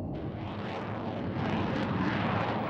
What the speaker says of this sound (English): a Harrier takes off in as little as 500 feet